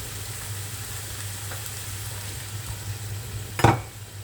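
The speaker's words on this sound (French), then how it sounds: "Vous mélangez bien votre tomate." Tomato paste and water being stirred in a hot pan, a soft continuous sizzle with a low hum, ending in a brief louder scrape of the spoon against the pan.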